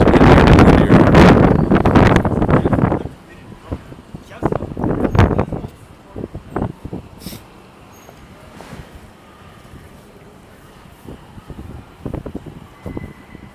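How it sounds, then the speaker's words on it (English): Strong wind buffets the microphone in loud rumbling gusts for the first few seconds, then eases into softer, intermittent bursts and low rustling over a quieter background. "the wind is windier and windier."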